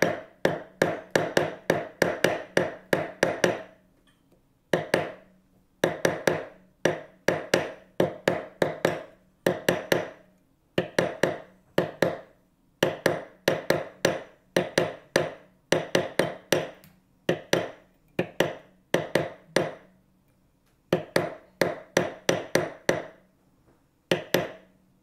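Rapid bursts of hammer taps texturing a metal wire ring, struck in quick runs of a dozen or so blows with short pauses between, close and crisp.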